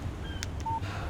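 Phone text message alert in the video game Alan Wake: a few short electronic beeps followed by a steady higher tone, clean and fairly quiet over a low background hum, with no talking.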